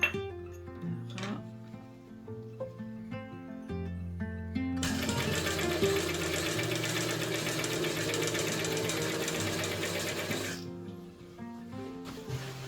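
Sewing machine stitching smocking fabric with elastic shirring thread, a steady loud whirring run in the middle section, framed by quieter stretches with background music tones.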